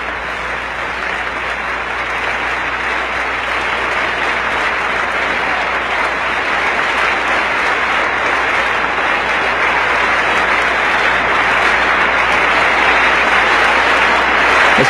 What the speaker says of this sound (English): Now the Speaker will formally introduce her, and then we'll get another round of applause